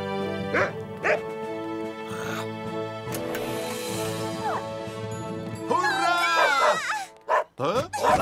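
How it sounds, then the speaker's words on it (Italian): Cartoon dogs in an animated firefighter show bark and whimper with short yips over a continuous music score, with characters talking around them. "Che bravi cani!"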